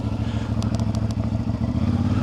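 A 2025 CFMOTO 450MT motorcycle being ridden, its engine a steady loud pulsing drone with rattling clatter on top, close and continuous throughout.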